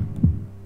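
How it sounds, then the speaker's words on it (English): A single low, muffled heartbeat thump sounds from the horror game Ib, short and close, over a faint hum. "Heartbeat!"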